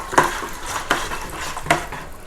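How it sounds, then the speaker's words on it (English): A giant spoon stirs wine ingredients in a small bucket, making three close, rhythmic scraping clacks against the sides with a soft swishing in between. "What we're gonna do is stir that up really quick."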